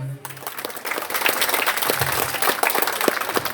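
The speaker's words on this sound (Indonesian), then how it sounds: "artis kita dari Depehe, Debagong dan Ari, tepuk tangan semuanya." Steady applause from an audience at a school farewell event, a dense wash of clapping that swells after a brief start and continues evenly throughout.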